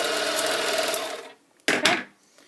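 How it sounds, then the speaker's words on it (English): Serger finishing one side of a pressed-open seam allowance, a loud, close, fast mechanical whir that winds down and stops, followed by a short, sharp burst of noise and then quiet. "you'll be serging on both sides of the seam allowance"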